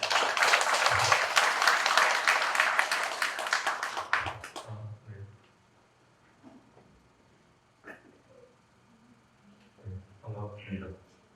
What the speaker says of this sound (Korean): 박수 환영해 주시기 바랍니다.